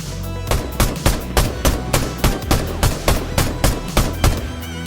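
A rifle in a video game, a mock-up of an unused Fortnite weapon, fires a rapid, even string of about a dozen heavy shots, each a sharp thumping bang, with no talking.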